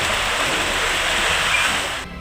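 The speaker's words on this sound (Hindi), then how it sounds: "दरअसल हरियाणा में तकरीबन 9 जिलों में बारिश हुई।" Monsoon rain falls in Haryana as a steady, loud, even hiss of water that holds unbroken for about two seconds before cutting off abruptly.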